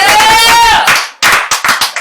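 Comedy club audience claps and cheers loudly for a couple of seconds after a shout, the applause dropping away into a few scattered, separate claps.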